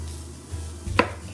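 A knife chops cabbage into big pieces on a cutting board, one sharp near chop standing out after a quieter thud, with no talking.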